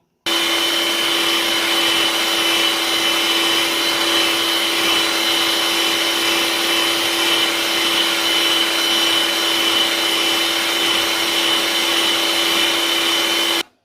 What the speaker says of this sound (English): I added sugar and I'm mixing the egg and the sugar.